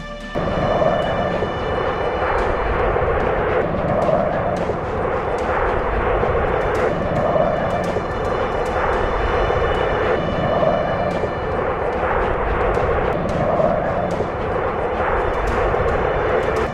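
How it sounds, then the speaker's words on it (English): Steady droning roar of a B-17 bomber's heavy engines with repeated dull booms of rocket explosions, loud and continuous throughout. "Egan's lead bomber, Mademoiselle Zigzag, took a direct rocket hit, instantly disabling 2 engines and tearing open the fuselage."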